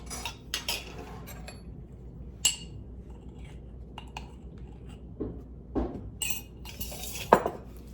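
Salt and baking soda mixed together in a bowl in a home kitchen, heard as sparse light clinks and scrapes of a utensil against the bowl with quiet gaps, close by.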